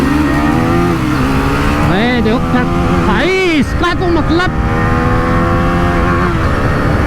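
TVS Apache RTR 310 and Husqvarna Vitpilen 250 motorcycles in a drag race, engines revving and rising in pitch through the gears, loud and close, with someone talking over them throughout.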